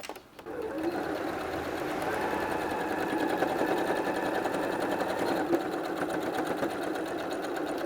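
Sewing machine stitching closed the lining opening of a purse, a steady close whirring hum with a fast, even needle rhythm that runs for several seconds after a brief start.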